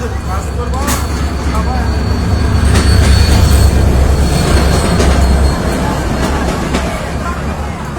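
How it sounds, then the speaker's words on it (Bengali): At Bangladesh's largest railway junction, an engine rolls along the tracks with a loud, continuous rumble and clatter and sharp wheel squeals, while people talk nearby. "ইঞ্জিন নিয়ে আসা হচ্ছে"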